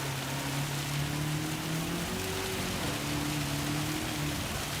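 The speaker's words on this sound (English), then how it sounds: "I can't hear the blooming engine over the noise of the rain." Steady, dense rain noise hisses throughout a Gran Turismo 7 race, with low engine drones wavering underneath; no voices.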